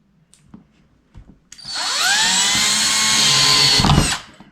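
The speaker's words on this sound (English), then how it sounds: "I'm going to drill into this dude's spine" A power drill whines up and runs steadily for a couple of seconds drilling into the spine of a Halloween prop, close and loud, then winds down; a few small clicks and knocks come before it.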